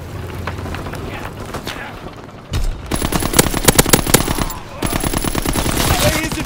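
Rapid automatic gunfire and heavy booms from a WWII combat video game, loud and dense bursts of rifle and machine-gun fire after a brief lull, with a voice partly buried under the shooting.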